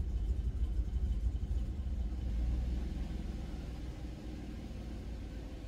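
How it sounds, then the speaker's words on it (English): A car engine idles steadily as a low, even rumble once its EGR system is returned to normal, with no shaking or harsh idle. The sound is faint and close, and no one speaks. "now we're going to see how the idle jumps back."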